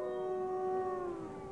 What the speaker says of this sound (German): Viel zu laute Wölfe.